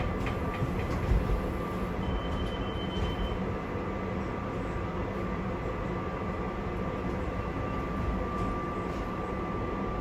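SEPTA regional rail train rolling past on the adjacent track, a continuous loud rumble of wheels on rails with a faint steady squeal, heard from aboard another moving train.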